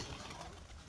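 Pigeons or doves coo faintly in a short, soft murmur over a noisy outdoor background, at a distance and with no speech.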